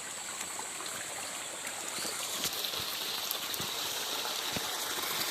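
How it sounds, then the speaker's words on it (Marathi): A little waterfall in green monsoon hills splashes and trickles steadily, a soft, continuous stream of falling water with a few sharper drips, close by and alone without talk. "हे बघा इथे एक लिटिल धबधबा आहे"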